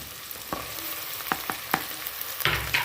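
Onions frying in a pan for mutton sambar as tomato goes in: a gentle continuous sizzle broken by several sharp spoon clacks and scrapes, close and moderately loud, without talk.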